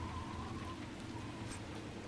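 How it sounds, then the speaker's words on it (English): Steady rain falls in the video game Dragon Age: Inquisition, a dense, continuous patter on surfaces that fills the scene at even loudness, with no talking. "I love the rain."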